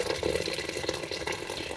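Pre-boiled water pours into a cooking pot on the stove while sinigang soup is being made, a brief continuous splashing and gurgling fill that is close and moderately loud, with no voices.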